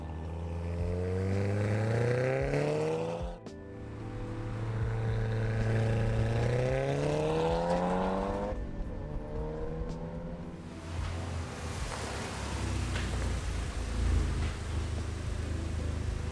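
Modified Volkswagen Golf R driving hard, engine revving up through several rising pulls with a shift break between them, loud and close, then settling into a rougher steady roar with road noise and no talk.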